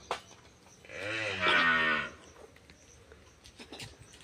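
A buffalo calf on a farm lets out one drawn-out, fairly loud moo lasting about a second, apparently from hunger, with quiet farmyard background before and after.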